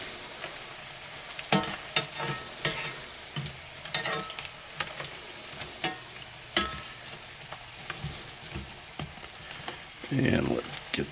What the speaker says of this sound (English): we're going to flip the shrimp to cook the other side.